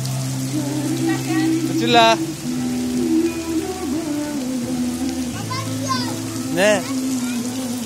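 Water spills down from rocks like rainfall at a sightseeing spot in Safranbolu, a steady patter of drops heard under a child's and an adult's voices talking nearby.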